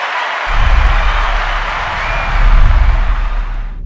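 Applause from a crowd starts abruptly and carries on steadily and loudly for several seconds, swelling near the end, with no talk over it.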